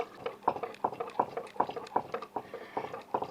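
Thick sarson da saag bubbles on a chulha, popping in a steady rhythm of close, wet gloops.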